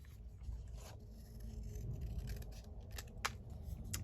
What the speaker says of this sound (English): So I'm just going to cut that down.